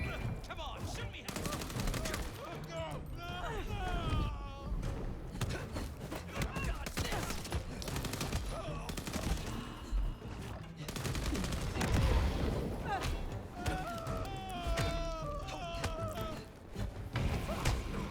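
Gunfire in the vampire action game Vampire The Masquerade Bloodlines 2: repeated shots and short bursts mixed with thuds and impacts, fairly close, through a busy game soundscape with voices talking throughout.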